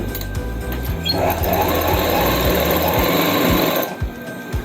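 A sewing machine stitches a one-inch folded hem on palazzo pants, running loud and continuous for nearly the whole stretch with a rapid mechanical chatter, then easing off at the end.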